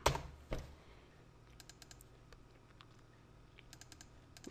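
Code is typed on a computer keyboard with quick clusters of close, crisp key clicks, two heavier keystrokes at the start and then lighter taps, in a quiet room with no speech.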